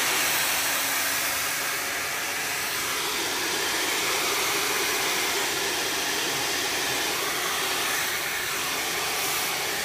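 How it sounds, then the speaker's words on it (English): A hair dryer blows continuously on hair being heated and dried, a loud, steady close-range roar with no talking. "we're heating the hair on both sides, and basically just blow drying it opposite of where we want it to lay."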